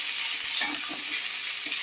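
Food sizzles steadily in a hot pan after flour has been added, a dense continuous hiss with a few soft stirring scrapes, close and loud with no voices.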